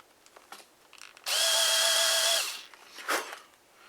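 An electric drill bores holes in a part for a Rifle model airplane: one loud, steady whine of about a second, near and alone, with quiet handling noise before and after.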